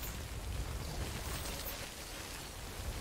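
Steady rain falls in the video game Death Stranding, a dense, even hiss of rainfall that holds constant throughout with no voices over it.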